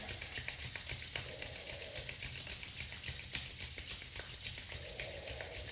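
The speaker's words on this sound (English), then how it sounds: "bringing your hands together as you rub your palms vigorously together, generating warmth" Palms rubbed vigorously together to build warmth during a meditation, a steady close dry swishing rasp that continues without pause, with no talk.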